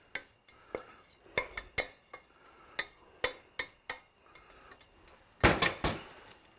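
Chopped tomatoes, peppers and onions drop into a pot of queso cheese dip with a run of sharp close clinks and knocks against the pot, ending in a louder cluster of clatters.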